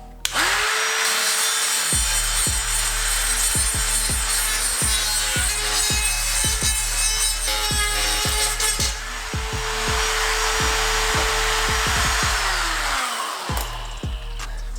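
A DeWalt drywall cutout tool, fitted with a bit not meant for the job, revs up to a loud, steady high whine with repeated cutting surges, running close by for over ten seconds before spinning down.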